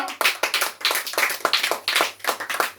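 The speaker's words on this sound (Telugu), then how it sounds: "ఒకసారి చప్పట్లు కొడతారా మీ ఫ్రెండ్ తరపున?" An audience in a church service claps in unison, several close, even bursts of many hands with brief gaps between them, with no talking.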